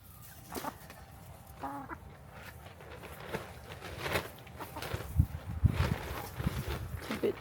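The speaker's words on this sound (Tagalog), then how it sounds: "Ito naman ang pinakamaingay kong manok." An Araucana hen, the flock's noisiest, clucks and calls in a loose irregular series in a windy chicken yard, with soft footsteps and other fowl nearby, the calls growing louder and more frequent toward the end.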